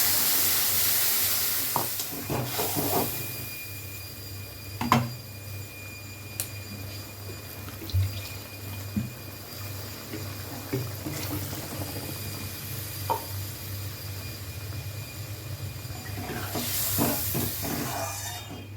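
Water goes into a hot pan holding green chilies and mustard for a Bengali fish curry, giving a low hissing, bubbling simmer with occasional utensil knocks and clinks over about nineteen seconds, with no voices.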